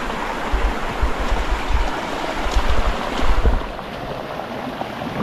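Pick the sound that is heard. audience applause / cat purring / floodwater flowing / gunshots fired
floodwater flowing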